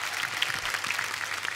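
Studio audience applause at a Kapil Sharma comedy show, a brief, even burst of many hands clapping, fairly faint and heard alone without talk.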